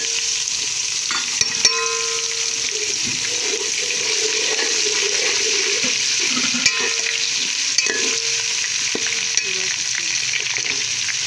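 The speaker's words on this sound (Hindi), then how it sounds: "तकरीबन 1 मिनट इसे भी फ्राई कर लेते हैं, अदरक लहसुन को भी इसी के अंदर" Ground ginger and garlic fry with onions in a hot pan, giving a continuous close sizzle broken by occasional spoon clinks and stirring scrapes, with no one speaking.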